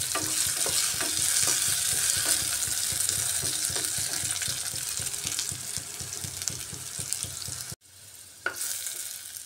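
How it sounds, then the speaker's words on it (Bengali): Potato pieces fry in hot oil with a steady crackling sizzle, close and continuous, broken by occasional stirring clatter and a brief pause near the end. "এইভাবে সব আলুগুলোকে আমি একটু ভাজা ভাজা করে নেব"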